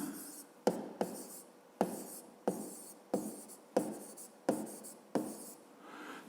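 A pen writes out a maths solution in about eight brisk scratchy strokes, each a sharp start fading into a rub, evenly spaced and close, with no talking.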